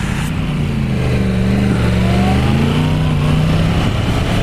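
A motorbike ridden along a road, its steady engine drone holding loud and close throughout with a slight rise in pitch partway through, alone with no talking.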